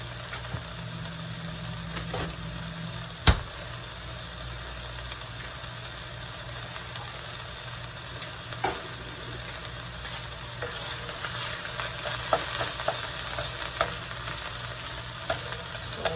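Lean turkey sausage frying in a pan with added oil as it is broken up: a steady soft sizzle with occasional scrapes and one sharp knock, no talking.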